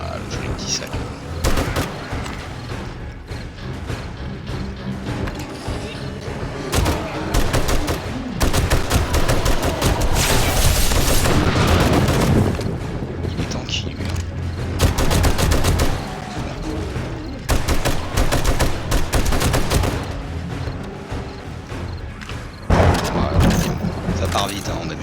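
Sustained M-60 machine gun fire during a zombie horde night in 7 Days to Die, loud and dense with rapid bursts and booms running almost without pause, with people talking over the shooting.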